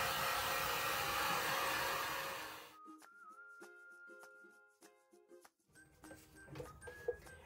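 Hair dryer blowing steadily and loudly on a handmade DIY mail holder for about two and a half seconds, then cutting off, followed by quiet tapping and clinking of craft materials.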